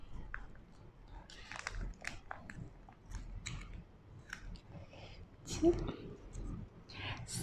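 Raw oysters eaten with roasted chili paste, with soft, close chewing and slurping interspersed with quiet clicks and rustles, while someone talks at a low level throughout.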